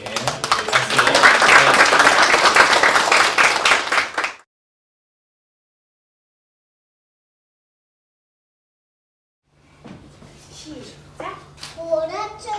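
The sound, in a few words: applause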